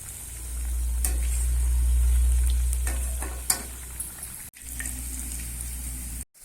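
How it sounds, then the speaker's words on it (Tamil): Banana flower vadas frying in hot oil, a steady bubbling sizzle with low rumble beneath, broken by a few sharp utensil clicks and a brief drop near the end, with no voices. "வடை நல்லா வெந்துட்டு இருக்கு"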